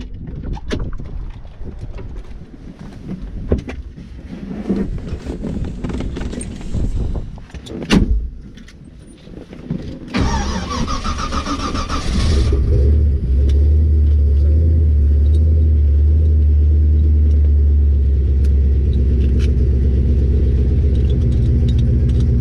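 A 427 hp Factory Five 1933 Ford Roadster replica cranks over with a short whirring burst, then settles into a loud, steady, deep idle rumble that carries on alone to the end, with scattered clicks and handling noises earlier.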